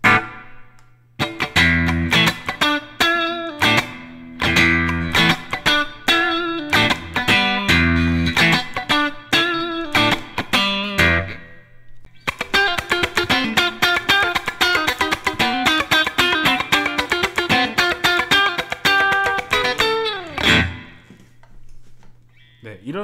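Electric guitar plays choppy funk rhythm with tight muted strums and crisp staccato chords, loud and continuous for about twenty seconds with a brief pause midway, no talking.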